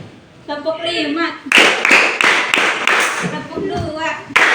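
Students in a classroom clap together on a teacher's spoken cue, a dense run of sharp unison claps in steady rhythm, bracketed by her voice before and after.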